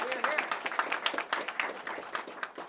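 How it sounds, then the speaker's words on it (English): Audience applause at a county government budget meeting, dense rapid clapping from a crowd that holds steady throughout, with voices mixed in. "Let's give them a round of applause."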